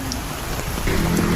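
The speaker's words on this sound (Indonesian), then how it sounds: "Lah, masih hujan loh, Puwi." Steady rain falling during an evening scene, a continuous broadband hiss that thickens slightly toward the end, with no voices over it.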